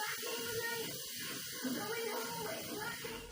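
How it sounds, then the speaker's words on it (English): A hot flat iron pressed onto a wet towel wrapped over real-hair dreadlocks gives a faint, steady sizzling hiss, like frying, close by with no voices. "If you hear a frying sound like this..."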